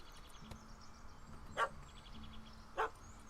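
A dog in The Witcher 3 barks at a cat, two sharp separate barks about a second apart over a quiet game ambience with faint tones.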